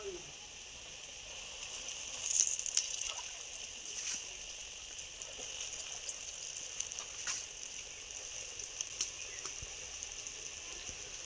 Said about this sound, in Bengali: তেলটা গরম করে নিয়েছি, আর সেই তেলে এবার কোপ্তার শেপে আমরা এই কচুর ফুলগুলোকে দিয়ে দিচ্ছি